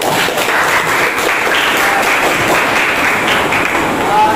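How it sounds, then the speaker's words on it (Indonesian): Students clapping in a classroom after a group presentation in an electron configuration lesson: dense, continuous applause, loud and close, with some voices mixed in. "Tepuk tangan untuk kita semua dulu."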